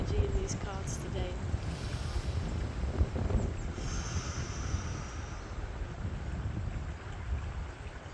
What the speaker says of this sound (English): Thank you to the wind.